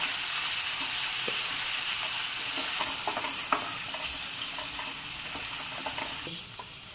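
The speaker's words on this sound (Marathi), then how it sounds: "आता हा कांदा छान गोल्डन ब्राऊन होईपर्यंत आपल्याला छान परतून घ्यायचा आहे." Chopped onion sautés in a pan, a dense, even sizzle heard up close with occasional spatula scrapes and pops, and it eases slightly at the end.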